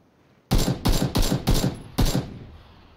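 A quick burst of five loud gunshots in a video game, fired in a rapid uneven rhythm close by, then a fading tail into quiet.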